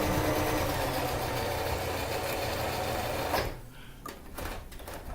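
A sewing machine stitches a bag handle strap with a fast, even mechanical whirr that runs for about three seconds and then stops abruptly, leaving faint handling noises.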